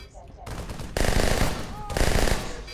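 Bursts of automatic gunfire ring out during an Arma 3 match, with loud rapid volleys arriving in two or three sustained strings at close range, over a background of battle noise.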